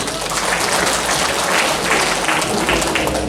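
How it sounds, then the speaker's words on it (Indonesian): Participants at a regional government forum in Merauke, Papua, applaud again for the chairman of the local customary council. The clapping is loud and thick and sustained throughout, filling the hall. "Tepuk tangan sekali lagi."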